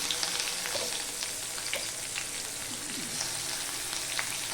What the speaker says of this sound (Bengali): কালো জিরাটা হয়ে গেলে আমি দিয়ে দিচ্ছি কুচানো পেঁয়াজগুলো